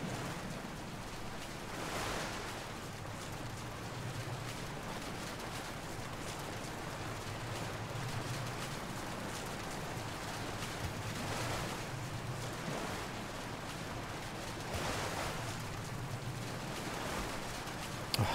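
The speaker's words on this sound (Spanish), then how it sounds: "La lluvia es horrible, no puedo ver nada." Steady, constant rain hisses throughout, with a few brief surges in intensity.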